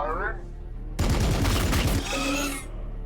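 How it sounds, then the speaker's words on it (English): Rapid burst of gunfire from a Warhammer video game, a dense loud volley lasting about a second, with game sounds and a voice around it. "Firing."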